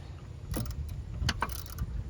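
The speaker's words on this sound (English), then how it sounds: "I do have a ratcheting 13mm wrench right here" A ratcheting 13mm wrench works on a 2001-04 Kia Rio during a belt change, giving a few quick metallic clicks over a steady low background hum.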